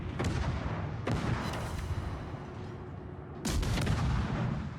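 Naval gunfire and incoming shell impacts in a warship video game, three heavy booming blasts over a constant dense rumble of engine and battle noise, loud and close, with no talk.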